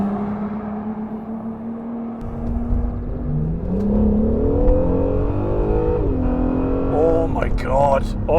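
A Honda on a race track idles and then accelerates hard, the engine note climbing through rising revs and gear changes in rising whining sweeps, loud and close from onboard, with someone talking over it.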